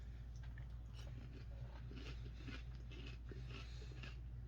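Lucky Charms Marshmallow Clusters cereal is chewed up close, giving soft, irregular crunches and bites over a low steady background hum, with no speech.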